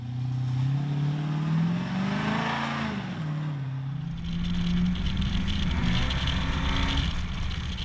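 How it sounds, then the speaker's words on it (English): A loud, rumbling classic Chrysler V8 with Pacemaker headers and exhaust cut off at the differential, revving up and down in waves, then holding a steady, rough idle-like drone throughout. "Pacemaker headers and exhaust cut off at the diff, so she makes a bit of noise."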